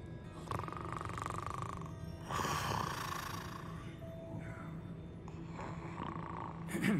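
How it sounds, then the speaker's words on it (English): A man snores in the video game Hogwarts Legacy, a slow rasping rumble repeating a few times at moderate volume over a steady game soundscape. "I hear snoring."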